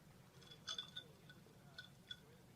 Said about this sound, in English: my glass is making a lot of noise. Clank, clank, clank, clank.